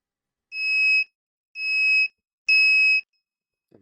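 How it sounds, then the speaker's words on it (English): A small buzzer on a Raspberry Pi gives three evenly spaced, piercing electronic beeps, each about half a second long, close and clear with silence between. "And it beeps."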